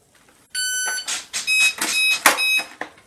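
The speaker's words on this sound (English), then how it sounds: "Those are the beeps that it puts out" A ParkZone Sport Cub S RC plane sounds a quick series of high electronic startup beeps at close range, several tones in a row with a short final beep, and no talking.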